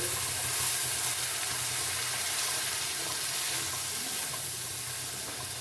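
Prepared spice paste sizzling in a hot pan for a Bengali dish: a steady, even hiss that holds throughout and fades slightly toward the end, close and moderately quiet.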